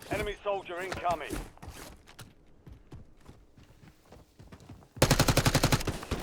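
Weapon fire in the video game Call of Duty: Warzone comes as a burst of rapid, loud shots at the end, after a stretch of talking and quieter in-game clatter.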